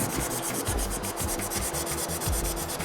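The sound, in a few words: sanding a truck fender with a circular sanding block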